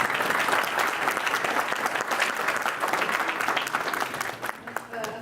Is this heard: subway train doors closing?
no